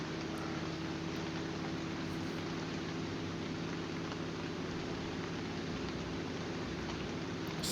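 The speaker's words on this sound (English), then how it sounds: "Such a rainy place." Steady rain falls in a grey, rain-soaked area of the action game Grimvalor, a constant dense hiss of drops on surfaces. A low droning ambient hum runs beneath it throughout, and no one speaks.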